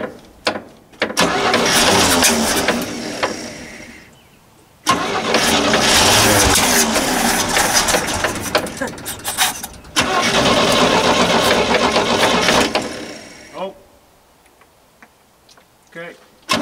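A 1964 GMC Custom Cab pickup with a 305 V6 turns over in three long, loud cranking bursts of several seconds each, the starter straining between pauses, on a first start after sitting fifteen years.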